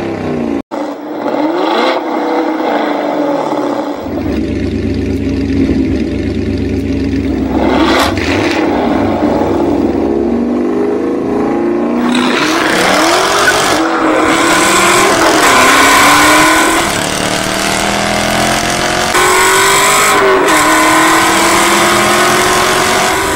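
Matchbox Superfast diecast toy cars, a Chevelle and a Mustang, roll and rattle down a racing track, with steady rolling whir, scraping, and a few sharp clacks, continuous and fairly loud throughout.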